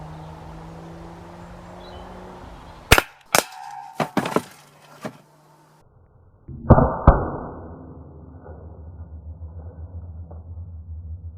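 Several sharp shots from a Umarex HDP 50 pistol fired at cans, a run of loud cracks spaced irregularly over a few seconds, then a louder pair of reports followed by a lingering low rumble.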